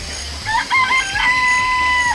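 Chickens in the Danganronpa Trigger Happy Havoc video game, a rooster-like crowing call with rising and wavering tones lasting nearly two seconds, loud and alone.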